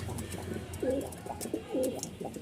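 A male pigeon in a Dhaka pigeon market gives two soft, throaty coos close by, with faint background noise between them.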